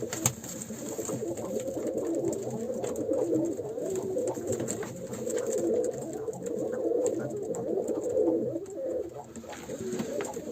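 Breeding pigeons coo steadily over a dense, continuous murmur of many birds close by, a low rolling chorus with no pauses.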